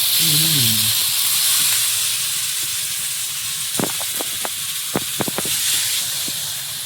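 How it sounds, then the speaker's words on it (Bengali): Water hits potatoes fried with spices in a hot pan, setting off a strong, steady hiss and sizzle that gradually settles, with a few sharp clinks and taps partway through and a short voice at the start. "আলুটাও ভালো করে কষিয়ে নিয়েছি মশলার সঙ্গে, এবার জল দিয়ে দেবো।"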